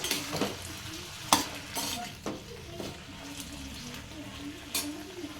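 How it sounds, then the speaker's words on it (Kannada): A broccoli stir-fry sizzles steadily in a pan while a utensil stirs and scrapes in irregular clinks and knocks, close and moderately quiet. "ಕೈಯಲ್ಲಿ ಆಡಿಸ್ಬೇಕು ಸ್ವಲ್ಪ ಪಲ್ಯದೊಳಗಡೆ."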